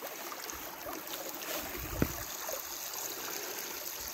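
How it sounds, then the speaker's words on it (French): Water bottle filled from the Lot river outdoors on a hiking trail, a steady gurgling rush of flowing water with one brief knock midway, close and continuous, with no talk. "je vais remplir ma bouteille"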